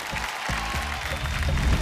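Audience applause on a Hindi TV quiz game show, a steady wash of clapping that holds at an even level and swells slightly toward the end, with no voices over it.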